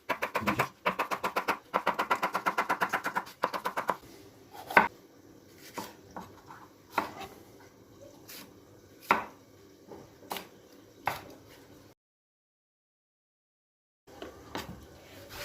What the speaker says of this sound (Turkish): Biberlerimizi doğruyoruz.